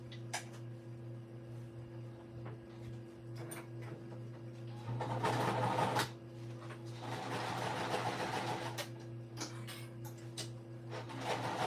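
A sewing machine base stitching the panels of an Addy shoulder bag, a steady mechanical hum with a rapid run of stitching in the middle and scattered clicks.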